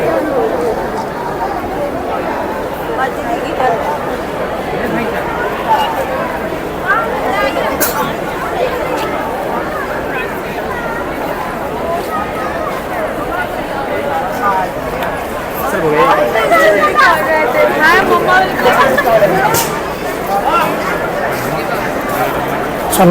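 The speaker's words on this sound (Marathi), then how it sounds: "मित्रांनो खूप गर्दी आहे इकडे" Dense crowd chatter at the Kala Ghoda arts festival in Mumbai, a steady murmur of many voices close around, swelling louder in the middle with scattered footsteps and bumps.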